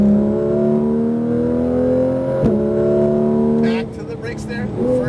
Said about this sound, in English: let's accelerate right back to the middle part of the track